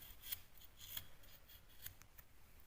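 A rasp chamfers the edge of a plasterboard patch during a socket-hole repair, giving faint, short scraping strokes, about four, spaced irregularly and quiet against a hushed room.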